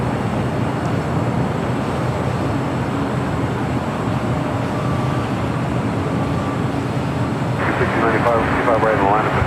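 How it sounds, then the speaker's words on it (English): A British Airways airliner on the runway at Los Angeles International Airport, its jet engines making a loud continuous roar throughout, with a voice speaking over the noise. "Speedbird should be taking off here any second"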